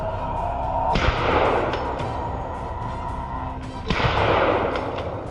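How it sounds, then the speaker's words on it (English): Two sharp, loud gunshots a few seconds apart during a wild boar hunt in a field, each trailing into a rolling echo over a dull outdoor background. "A series of gunshots rang out, taking down the lead boar"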